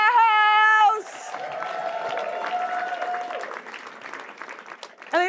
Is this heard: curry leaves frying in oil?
no